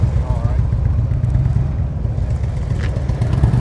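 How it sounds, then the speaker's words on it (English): Motorcycle engine idling low with small throttle blips during slow-speed riding practice, a steady mid-pitched putter close by, with a person talking over it. "I need to hear that throttle. It's too low."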